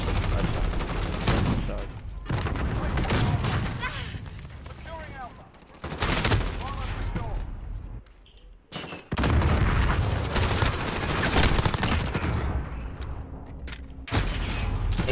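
Shotgun blasts in a first-person shooter video game, several loud bursts in a chaotic firefight with booming impacts, broken by brief quieter gaps.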